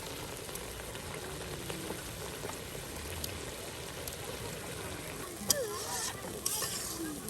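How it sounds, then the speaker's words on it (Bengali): Bottle gourd curry with egg simmering in a village pot gives a steady, soft bubbling hiss throughout, with a few brief clinks near the end. "দেখুন এই লাউটা রান্না করতে হচ্ছে প্রায় সে বিকেল থেকে কিন্তু শুরু হয়েছে লাউ রান্না"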